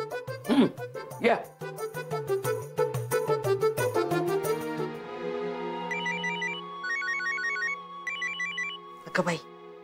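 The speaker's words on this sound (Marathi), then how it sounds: "केतकर काकांचा फोन." A telephone bell rings indoors in repeated short trilling bursts at moderate level, mixed with voices speaking around and between the rings.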